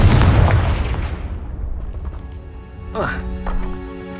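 Booming Confringo blast-spell explosions from the Hogwarts Legacy video game: a loud burst fading over about two seconds, followed by sharper whooshing magical flares and tonal effects, with a voice shouting over the action.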